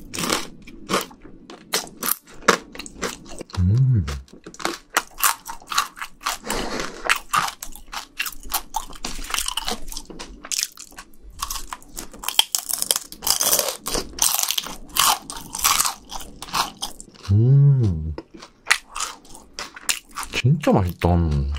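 Crispy, slightly oily shrimp crackers are crunched and chewed close to the microphone in a seafood eating session, with repeated sharp bites and wet chewing in uneven bursts, and a voice speaking between mouthfuls.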